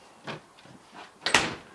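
Slide-out pantry drawers in a 2017 Coachmen Chaparral Lite 29 BHS fifth-wheel RV are pushed shut, giving a few soft sliding knocks and then a louder clacking latch, close by with no talking.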